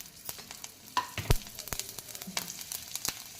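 Green chillies sizzle and crackle in hot oil in a pan, with soft steady frying and a few sharp pops and stirring scrapes, close and fairly quiet.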